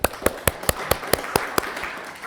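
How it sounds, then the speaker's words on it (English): Audience applause for Mark and Startup Spokane at a Business Brew customer-service talk: about ten evenly spaced sharp claps ring out, fairly close and moderately loud, sounding like a small group clapping in loose unison rather than a full roar. "Round of applause for Mark and Startup Spokane."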